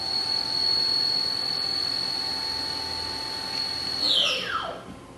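A 1998 Haas VF-2 CNC mill spindle runs at 6,000 RPM with a steady, piercing high whine over a machine-shop hum, then the pitch slides sharply downward as it winds down near the end.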